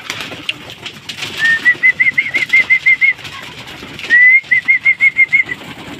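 Pet pigeons, just fed, make two close runs of rhythmic, pulsing coos over soft rustling and faint flutter, loud and near, with no talk.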